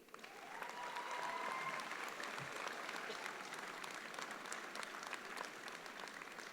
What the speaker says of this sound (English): give those of you who supported you for all these years a round of applause